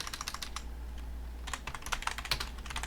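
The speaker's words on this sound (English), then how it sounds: "using a keyboard" Quiet, steady clicking of keys on a computer keyboard, with a brief pause midway before a faster burst of typing.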